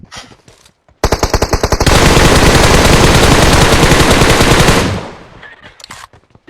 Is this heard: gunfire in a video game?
yes